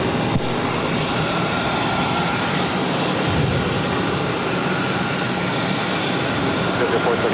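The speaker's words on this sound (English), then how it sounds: "This Bombardier Challenger 300 is taking off to Chicago Executive Airport" A Bombardier Challenger 300 business jet takes off at Boston Logan airport, a steady, loud, broadband engine roar that holds evenly throughout without pauses.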